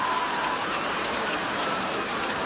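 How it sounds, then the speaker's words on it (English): Heavy rain falls at an Australian rules football match between Sydney and Adelaide, a loud, dense, continuous hiss of drops with no clear voices over it. "Confirmation the rain has hit, so it is only getting slipperier."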